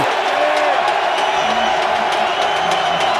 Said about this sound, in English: This crowd's going insane.